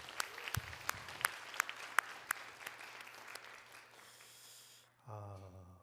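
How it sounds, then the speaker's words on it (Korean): In a Korean church service, a congregation gives a round of sharp, rhythmic claps with a handful of distinct beats over a soft blend of clapping, which fades before a voice takes over. "우리 하나님께 영광의 박수 올려드리겠습니다"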